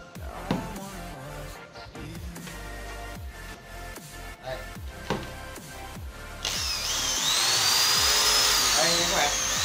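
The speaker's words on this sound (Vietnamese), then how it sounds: "bây giờ mình sẽ cắm điện chạy thử cho các bạn xem từ con máy siêu nhỏ này" A small Keyang PD 6KB 300 W corded electric drill-screwdriver starts up and runs with a steady whine that grows louder and stronger toward the end, following a stretch of clattering handling sounds and someone talking.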